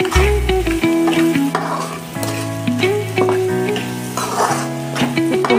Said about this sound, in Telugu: నేనైతే మొత్తం కలుపుకుంటున్నాను